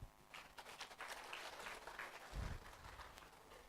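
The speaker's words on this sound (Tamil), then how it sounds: "ஒரு கை தட்டலாமே." Scattered audience clapping at a Pondicherry drug manufacturers' association meeting, moderately faint and uneven, swelling and thinning across a few seconds with no speech over it.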